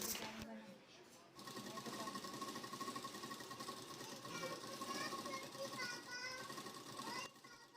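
A sewing machine runs steadily and close while stitching a wavy lahariya design onto a salwar, its continuous rapid whirr lasting almost the whole stretch as someone talks over it.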